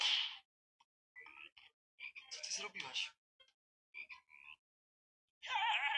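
Frogs in the video game Minecraft give brief, rough croaks at the start and end, close and clear, with a person speaking between them.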